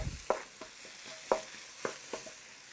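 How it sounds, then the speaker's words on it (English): Garlic and red paste for pad thai fry gently over low heat in a pan, giving a faint sizzle broken by a few sharp spatula scrapes and stirs. "I'm gonna keep the heat relatively low for now because I don't wanna burn the paste"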